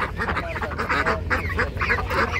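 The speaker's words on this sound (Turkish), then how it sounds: "Amerikan ördekleri var." American ducks at an outdoor poultry market in Sungurlu, Çorum, giving a rapid overlapping run of nasal quacks and honks, close and busy, with a low crowd murmur beneath.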